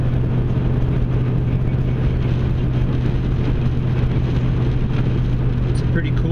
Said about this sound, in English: We're cruising at 66 miles an hour